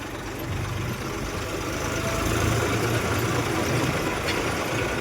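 A farm tractor engine drones in a steady low rumble, constant and fairly close, with no talking over it.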